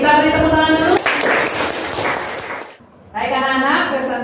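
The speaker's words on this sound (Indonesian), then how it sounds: "kita beri tepuk tangan dulu" A classroom of students claps together in a short burst of scattered applause, with a teacher's voice talking before and after.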